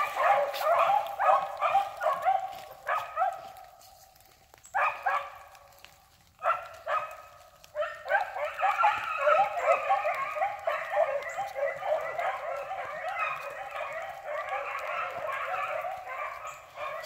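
A pack of six beagles bays and yelps while trailing a rabbit, a chorus of overlapping howling cries in bursts, briefly thinning to a lone whimper before swelling into sustained, continuous baying.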